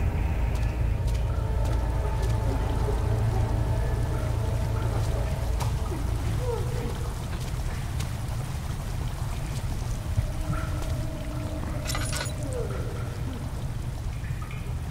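Sewer water is redirected in the horror game Amnesia: The Dark Descent, a steady rushing, gurgling flow of water with scattered drips and splashes, continuous and moderately loud throughout, with someone talking over it at times.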